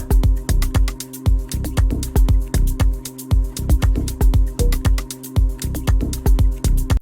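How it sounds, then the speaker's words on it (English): Short, punchy synth bass notes for an organic house track, plucked in a steady repeating rhythmic pattern over crisp clicking percussion, each note decaying quickly. "What I like to do from here on is add a bass sound"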